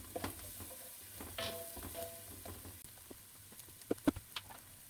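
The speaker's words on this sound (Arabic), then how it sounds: "انا بحب اشوحها مع البصل وفص الثوم" Spices stirred in a pan with onion and garlic, a soft steady sizzle and faint patter with scraping stirs, brief clinks from a utensil near the end.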